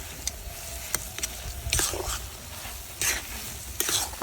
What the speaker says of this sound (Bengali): দিয়ে ভালো করে মিশাইয়ে নামাই দেবো